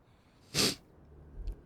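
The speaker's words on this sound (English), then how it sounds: "I don't know why I suddenly started sneezing." A single sharp sneeze bursts out near the mic, loud and brief, with soft breathing before and a low snort-like puff afterwards.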